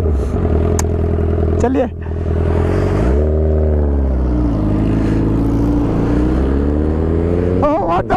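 Honda CBR1000RR Repsol Edition motorcycle engine droning and rising in pitch close by, with a brief dip around two seconds before climbing again, sluggish despite throttle, under a short spoken word.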